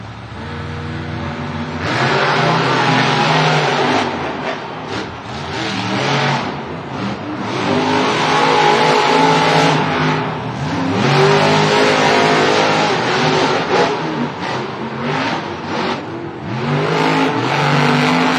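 Monster trucks race at a Monster Jam stadium event in Anaheim, with loud engines revving and roaring in long surges and a crowd-filled arena wash behind them.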